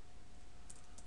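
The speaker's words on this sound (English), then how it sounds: "so now we'll type end" Keys tapped on a computer keyboard while entering a network switch configuration command, a short run of light, quiet clicks over a steady low hum in a quiet room.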